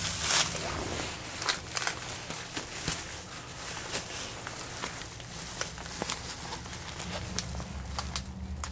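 Footsteps tap irregularly outdoors on a cold Halloween night, light scuffing and patting steps at close range with no talk.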